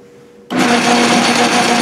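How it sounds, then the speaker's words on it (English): A lathe cuts a multi-start thread into a nut, starting abruptly from a quiet background into a steady, loud, continuous whirring hum with a faint high whine, no talking. "It's time to thread the nut."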